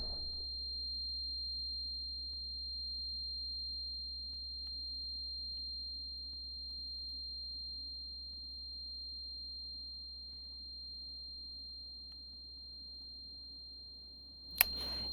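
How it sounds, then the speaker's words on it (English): A flashbang in an extraction shooter video game leaves a steady, high-pitched ringing tone that holds unbroken for the whole stretch over a low hum, ending in a small click. "And this ringing's going to continue for a little bit."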